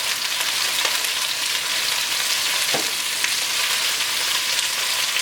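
Asparagus and other vegetables stir-frying in a hot pan with salt and pepper, a steady close crackling sizzle throughout, a brief scrape or clatter midway, no talking.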